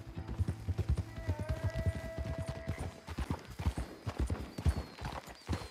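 Horses walk along a road in a Western setting, hooves clip-clopping in a steady, close rhythm at a quiet level with no talk over them.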